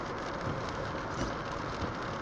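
Heavy pouring rain heard from inside a moving car on a January drive, a dense, steady roar of water and road noise filling the cabin with no voices.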